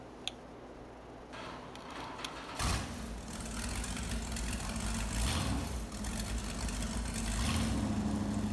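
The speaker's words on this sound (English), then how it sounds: "This engine actually sounds very weird because it sounds like over dramatic on the acceleration that you're giving" A tractor engine in the Farming Simulator 22 game, starting as a quiet idle with light ticking and then swelling into a louder, sustained rumbling drone as it revs up, without speech.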